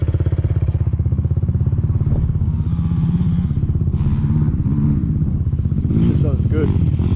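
Honda TRX450R ATV quad engine idling steadily with a rapid, even thumping pulse, then blipping briefly near the end. People talk in the background.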